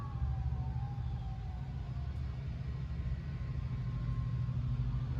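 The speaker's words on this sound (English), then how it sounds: "I'll wait for the ambulance to go by." An ambulance siren wails faintly in the distance outdoors at a graveside service, its tone sweeping over a low traffic rumble as it passes.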